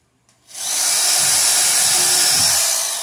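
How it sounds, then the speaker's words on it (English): A power drill driving fasteners into a wooden plank spins up after a brief silence and whirs steadily at high speed for a few seconds, loud and close. "So I'm just drilling these in, like I was saying before, at right angles"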